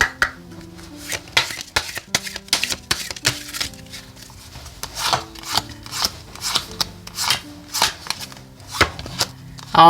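Oracle cards being shuffled by hand in a quiet room during a weekly tarot reading: repeated crisp riffling and slapping bursts in an uneven rhythm, close and fairly loud, with no talking over them.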